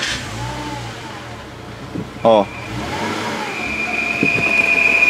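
A running Land Rover Freelander engine, warmed up and with a punctured membrane, idles and revs while a thin, steady whistle rises and holds above it. Someone speaks briefly nearby.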